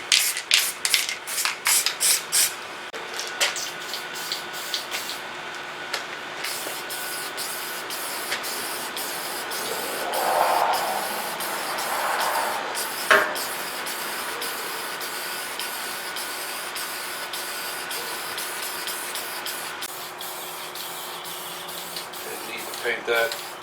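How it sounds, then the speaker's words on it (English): Glossy primer hisses from a spray can in short bursts at first, then in a long continuous spray over the floor of a 1948 Ford body swapped onto a Ford Ranger. Someone talks over part of it. "Shoot a little of this glossy primer."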